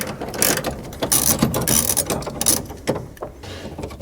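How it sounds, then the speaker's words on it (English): A ratchet fitted with a 1/2 inch socket works steering column bracket nuts loose, fast close clicking in short uneven bursts with brief pauses. "we use a 1/2 inch socket to get these nuts off of here."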